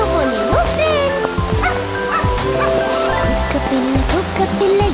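A cartoon puppy barks and yips repeatedly in bright, high, bouncy bursts over a busy animated soundtrack with music and talk.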